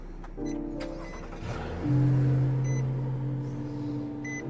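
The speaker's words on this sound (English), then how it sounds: "It has a nice aggressive note coming from the exhaust when you first start it up cold." A 2020 Nissan Maxima SL cranks and catches from a cold start with an aggressive exhaust note, settling into a low steady idle rumble, with a few faint electronic beeps.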